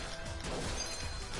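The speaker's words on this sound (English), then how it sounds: "See as I move, glide as I smash boxes" Boxes get smashed in the video game Yorbie, giving a dense, loud crashing burst that lasts a moment without any talking.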